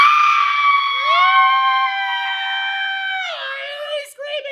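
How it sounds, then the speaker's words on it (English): Several people scream together in a sustained, loud, high-pitched chorus that holds for a few seconds, then breaks off into a ragged tail of shorter cries up close. "Screaming!"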